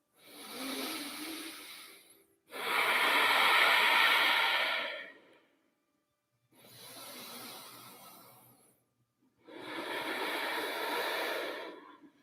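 Deep yoga breathing through the nose, heard as four long, close breaths of soft rushing air, each lasting a couple of seconds and separated by brief pauses.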